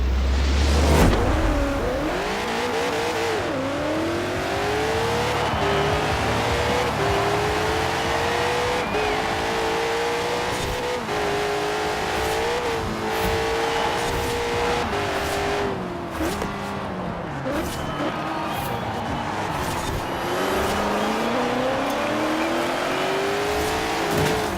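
Hot Wheels Twin Mill race car in Forza Horizon 4 revs and pulls through its gears, the engine note climbing and dropping repeatedly in rising sweeps, loud and continuous with occasional tire noise.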